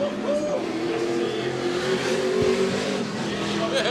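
Classic touring cars, including big Ford and Chevrolet sedans, race on a circuit at a classic car speed event, their engines roaring loudly and continuously as they pass close by, with revs rising and falling.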